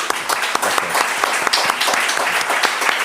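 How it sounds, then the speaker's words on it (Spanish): A lecture audience applauds at the close of a master class on palliative care ethics, a dense, steady clapping filling the room for a few seconds with no speech over it. "recibe este aplauso"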